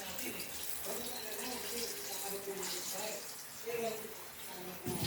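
Water runs from a household faucet (gripo) in a steady, continuous rush, with faint voices talking in the background.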